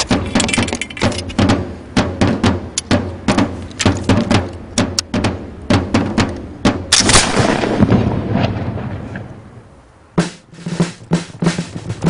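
Musket volleys from early-1700s infantry at the 1707 Battle of Almansa, with dense sharp gunshots cracking in rapid irregular succession, loud and close, a rolling burst of heavy firing near the middle, then a brief lull before more shots.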